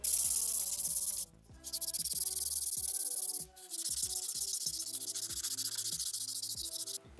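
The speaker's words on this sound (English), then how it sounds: "I think I'm going to sand this up so I can slide this whole one off." Sandpaper rubs back and forth on a part of an old 1957 Farmall tractor, a close, rhythmic scratching in repeated strokes with two brief pauses.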